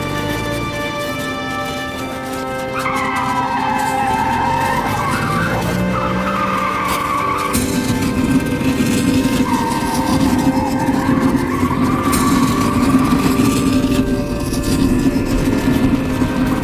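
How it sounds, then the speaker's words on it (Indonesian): Tires screech and skid as a motorcycle flees from a bar during a film chase, the squeal rising and falling over a steady engine roar and dense action noise, loud and continuous with no talking. "Levon kabur menggunakan salah satu motor yang terparkir di bar Hatis."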